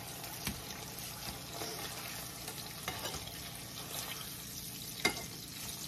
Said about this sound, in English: when you're frying in butter as well